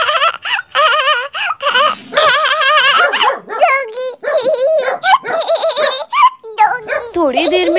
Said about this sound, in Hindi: तभी बबुआ के पास एक कुत्ता आ जाता है